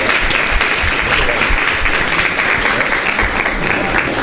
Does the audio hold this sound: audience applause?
yes